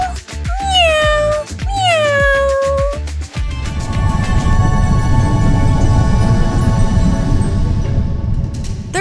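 Two clear cat meows in quick succession, close and loud, followed by a steady busy background noise that continues for several seconds.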